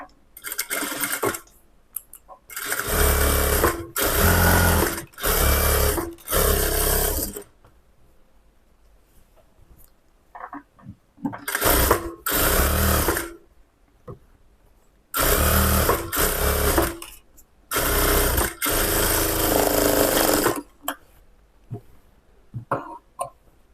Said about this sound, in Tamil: இப்போது லைனிங் துணி இந்த மாதிரி வச்சு மேலே படிமான தையல் போட்டுக்கிறேன்.